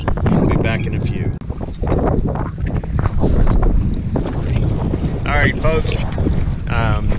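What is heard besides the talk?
wind blowing on a boat with a Mercury 250 Pro XS outboard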